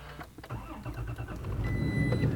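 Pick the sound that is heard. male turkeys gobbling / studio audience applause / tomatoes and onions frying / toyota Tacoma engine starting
toyota Tacoma engine starting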